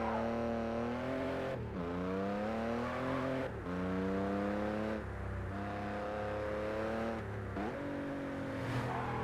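Car engine in a driving game, a Toyota Corolla-style JDM car during a drift run, revving up repeatedly in rising sweeps, dipping briefly between gear shifts and climbing again, loud and steady with no talk.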